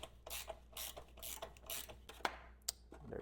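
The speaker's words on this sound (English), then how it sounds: "switching back to my 7/16 socket here, we're going to loosen up this little lag bolt here" A 7/16 socket ratchet loosens a lag bolt on a Torquemaster Plus garage door spring assembly, giving close, quiet bursts of rapid clicking with a few sharper ticks and short pauses between strokes.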